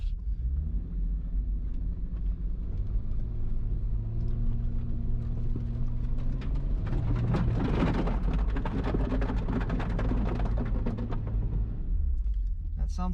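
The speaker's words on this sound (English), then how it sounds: "we're gonna back up and then we're gonna give it some gas and see if I make up this hill here" A lifted R50 Nissan Pathfinder in two-wheel drive revs its engine climbing a muddy hill, a steady rumble rising in pitch before loud, churning bursts as the tires spin and fling mud, then easing off.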